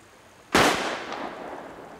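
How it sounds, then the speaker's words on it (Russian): A single gunshot from a war action film scene cracks sharply and loudly, then fades into a short echoing decay with no talk over it. "Ну, кто так стреляет?"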